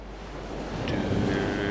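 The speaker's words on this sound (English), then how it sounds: "why aren't I just dropping into the water?" Splash and rushing water in the video game Shadow of the Colossus as the character drops in, a steady wash of surf-like noise building and holding to the end.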